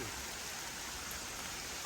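Steady rain falling outdoors at night, a dense, even hiss of drops on surfaces without a break, moderately loud and close, with no voices.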